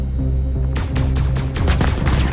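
Rapid bursts of ship gunfire striking the player's Aegis Gladius Valiant fighter in Star Citizen, loud repeated impacts arriving in quick succession over a low, steady engine drone.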